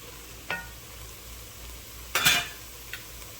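Garlic cooks in a pan for shrimp creole, with a soft steady sizzle underneath and a few brief stirring scrapes and clinks of a utensil against the pan.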